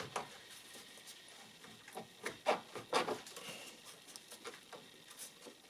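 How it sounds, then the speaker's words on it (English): Rubber coolant hose on a 2007 Peugeot Partner 1.6 HDi being wiggled back onto its pipe: a series of close, soft rubbery squeaks and scrapes in irregular bursts, a few louder ones in the middle, with no talk. "Now is to put the hose back in. It's again the same wiggling technique."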